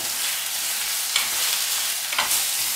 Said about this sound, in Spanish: el foie lo que voy a hacer es marcarlo a la plancha un poco